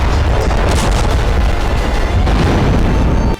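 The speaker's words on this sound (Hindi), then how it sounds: "इन पेजर और वॉकी टॉकी में विस्फोट होने लगे।" Pager and walkie-talkie explosions come as a loud, continuous booming roar with dense low rumble and blast-like bursts throughout, cutting off abruptly at the end.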